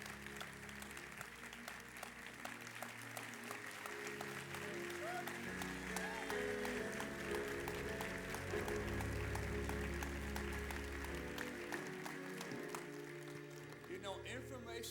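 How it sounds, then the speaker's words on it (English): Steady audience applause for Dr. Zanetta S. Lamar after a talk on women and cancer, a dense wash of clapping lasting throughout over a sustained tonal backing. "let's give Dr. Lamar another great hand of applause"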